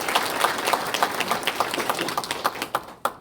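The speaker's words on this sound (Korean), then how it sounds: "도지사님께 큰 박수를 보내드리기 부탁드립니다." An audience at a provincial governor's talk concert with residents in Chungbuk applauds the governor. Brisk, steady clapping from many hands continues, thinning toward the end and closing on one sharp final clap before falling quiet.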